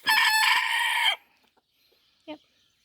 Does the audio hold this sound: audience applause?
no